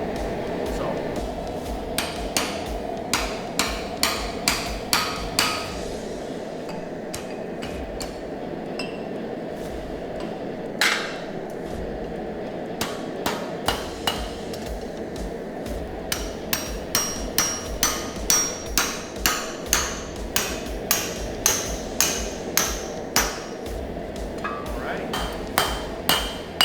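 Hammer blows on hot steel over a 3/4 inch drift while forging a bottle opener, widening the punched hole; a steady run of sharp metallic strikes, sparse at first, then fast and rhythmic, over a constant low forge roar.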